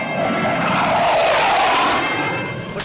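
An F-100 jet aircraft passes by, a loud, broad roar that swells and then eases slightly as it flies over, heard alone without voices.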